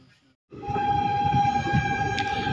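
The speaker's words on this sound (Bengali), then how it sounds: "ট্রেন ছেড়ে দিল কাঁথি স্টেশন" A train horn sounds in a long, steady blast over a deep, rumbling engine as the Digha–Malda Town special leaves Contai station, loud and close.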